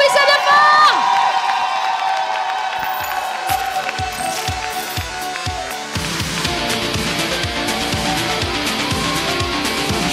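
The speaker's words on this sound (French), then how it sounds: "Applaudissez bien fort!" Audience at a French cosplay solo contest cheering, whooping and applauding for a Marvel Valkyrie cosplayer, a loud crowd roar with shouts and claps filling the hall, children's voices among it.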